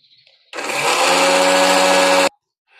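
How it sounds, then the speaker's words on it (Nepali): An electric mixer grinder whirs loudly for almost two seconds, grinding roasted ingredients for a pickle, starting and stopping sharply with quiet before and after. "भुटेर यसरी मिक्सरमा पिस्दैछु"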